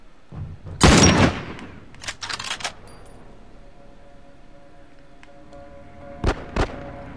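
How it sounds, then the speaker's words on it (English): Gunfire in The Last of Us bursts out in sharp, loud shots: a heavy volley early, a quick cluster of cracks after, then two more close blasts near the end amid quieter game ambience. "Alright, they're shooting over that."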